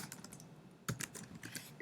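Computer keyboard typing, quiet and close: a short burst of light key clicks in an uneven rhythm, with a slightly louder cluster partway through.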